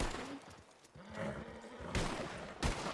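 Gunshots in the WildRP roleplay game: several loud, broadband blasts, with two distinct bangs near the end standing out from the quieter game ambience.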